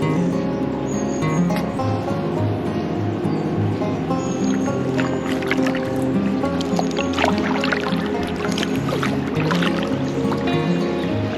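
A kayak paddles along the Main river near Aschaffenburg, with water sloshing and splashing steadily against the hull under a continuous, dense layer of outdoor noise.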